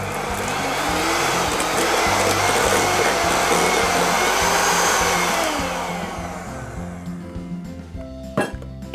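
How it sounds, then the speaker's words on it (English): An electric mixer beats softened butter on high speed in a home kitchen, a loud continuous whirring drone that gradually fades, ending with a few clinks of the beaters against the bowl. "beat softened butter or margarine with an electric mixer for 1 minute on high speed until creamy"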